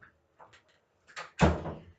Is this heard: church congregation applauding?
no